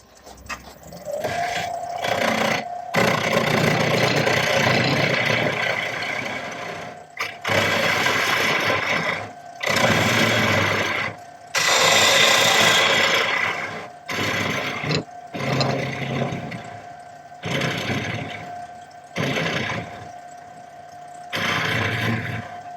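A wood lathe boring out the head of a dead blow mallet held by its tenon in chuck jaws: a continuous motor whine with bursts of rough cutting and scraping, stopping and restarting several times.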